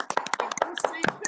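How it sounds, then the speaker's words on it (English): Scattered hand claps, a few sharp slaps close by, mixed in with people talking over them during an online council meeting. "I think we should all unmute ourselves and give them a big clap"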